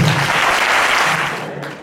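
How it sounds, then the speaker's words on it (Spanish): Audience at a town hall awards ceremony breaks into loud sustained applause, a dense burst of clapping that tapers off near the end. "Quiero otro aplauso para algo, coño."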